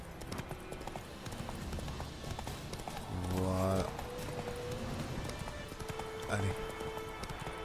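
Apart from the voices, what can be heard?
horse galloping hooves in The Witcher 3 video game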